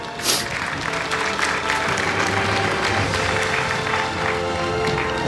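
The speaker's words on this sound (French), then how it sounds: "Et applaudissez-les pour moi, s'il vous plaît." An audience applauds new medical graduates at a faculty graduation ceremony at Université Lumière, with dense, steady clapping from a large crowd that continues throughout.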